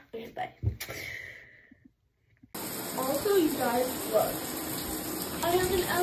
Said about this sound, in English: I'm gonna go in the shower